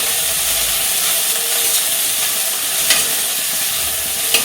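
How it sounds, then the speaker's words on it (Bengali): Onion, chili, garlic and ginger hit hot oil in a pan with a loud, continuous, close sizzle and hiss, a few faint clinks of stirring breaking through the steady frying. "তেল গরম হয়ে গেছে, দিয়ে দেবো তেলের মধ্যে, সবগুলো একসাথে দিয়ে দেবো।"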